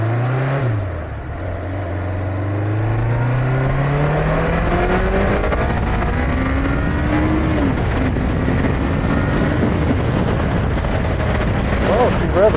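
A Yamaha XJ600 motorcycle engine is revved repeatedly close by, its pitch climbing and dropping over a steady loud exhaust drone, with a voice heard faintly beneath.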